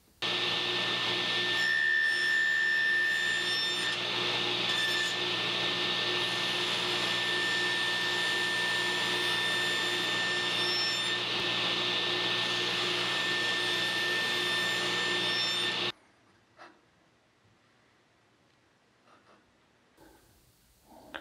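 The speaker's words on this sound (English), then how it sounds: "So then we will cut our miter down until it gets right into this nook area." A saw cuts miter joints into a wooden board, a loud continuous whining motor roar with a steady high tone that runs unbroken for about sixteen seconds, then stops abruptly, leaving quiet room noise and faint clicks.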